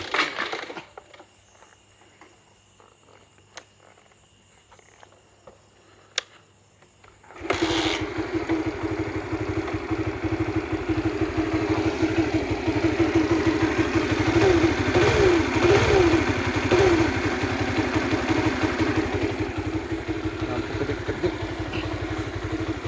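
A Honda Supra GTR 150 motorcycle with a starting fault and dead lights: quiet clicking at first, then the engine catches and runs at a steady, loud, close idle with slight revving that continues to the end.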